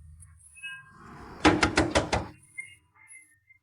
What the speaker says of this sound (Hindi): खटखटाते रहो, दिख नहीं रहा ताला लगा है?